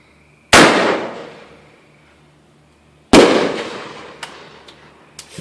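Two loud firework blasts from a grenade-launcher-style firework, about two and a half seconds apart, each a sharp close crack with a long fading crackle, plus a few small pops near the end.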